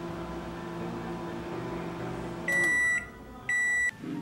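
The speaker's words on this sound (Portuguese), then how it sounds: "Vou deixar por 3 minutos na potência máxima do micro-ondas" Microwave oven humming on full power while heating honey mustard chicken, then two loud sustained beeps sound as it finishes.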